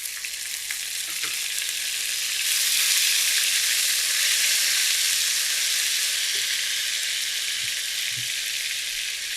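Ginger garlic paste fries in hot oil with cardamom pods, cinnamon pieces and a bay leaf, giving a loud, bright, steady sizzle that swells partway through, with a few soft knocks from the pan and no talking.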